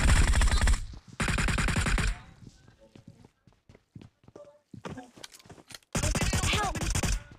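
Bursts of automatic gunfire in the Metro Royale video game: two long, loud volleys, then scattered quieter pops and clicks, then another sustained loud burst near the end.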